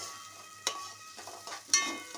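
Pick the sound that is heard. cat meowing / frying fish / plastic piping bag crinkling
frying fish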